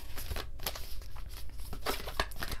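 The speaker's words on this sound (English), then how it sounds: "we're shuffling the moonology cards for that" Moonology oracle cards are shuffled close by, giving a steady run of papery riffles and soft slaps with a rough, uneven rhythm.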